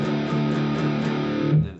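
Distorted electric guitar power chords in drop D tuning, played as a metalcore riff, ring out loud and sustained for nearly two seconds before cutting off.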